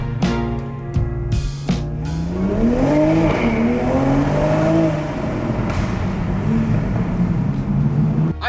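A tuned car accelerates hard up a driveway, its engine revving loudly with a rising and falling pitch through the gears. It is heard from indoors through a window, steady and continuous with no talking.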